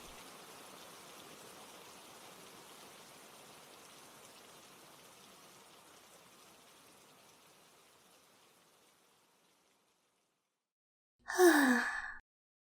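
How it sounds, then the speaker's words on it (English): Soft, steady rain patters for several seconds and slowly fades to silence, followed by a brief, close breathy sound like a sigh. "We can move out once the rain stops."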